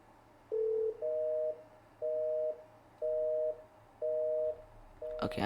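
PBX busy signal heard after dialing an extension set to do-not-disturb, five evenly spaced dual-pitch beeps about half a second each with equal gaps, clear and alone, ending in a short click.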